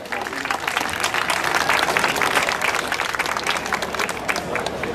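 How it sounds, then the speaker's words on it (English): A crowd applauding loudly and continuously, the clapping holding steady from start to finish with a faint murmur beneath it. "Let's have a round of applause."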